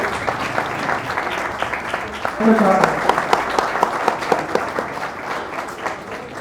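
A crowd at a Bhim Army rally in Trilokpuri, Delhi applauds steadily to welcome a speaker, sustained dense clapping throughout with a voice talking over it partway.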